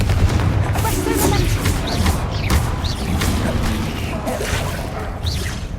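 Spell blasts and explosive booms from a fantasy wizard-school action game fire repeatedly over a dense, continuous bed of combat noise, with heavy low-end thuds and crackling bursts throughout.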